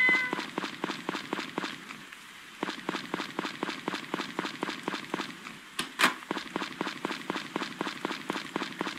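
Cat meowing in the farming game Harvest Moon: Friends of Mineral Town, a game-audio meow that rises briefly over a steady stream of rapid rhythmic ticking like footsteps or rain, with a short break in the pattern.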